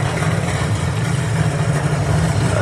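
Swedish A-Fuel drag racing cars at Santa Pod Raceway, engines running in a loud, steady, heavy low rumble with no distinct revs or pauses, heard from nearby and without talk.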